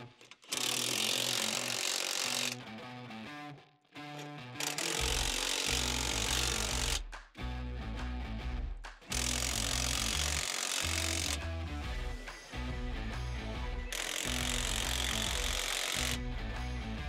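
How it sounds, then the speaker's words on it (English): A power tool tightens nuts on the screen mesh of a Keestrack R3H in loud, close bursts of rattling whir, about six of them, each a few seconds long with short pauses between. "Installing the nuts. And evenly doing them up."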